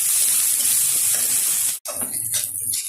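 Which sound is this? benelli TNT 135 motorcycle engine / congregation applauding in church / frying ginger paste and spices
frying ginger paste and spices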